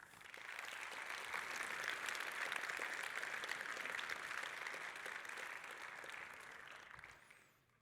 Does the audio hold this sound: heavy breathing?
no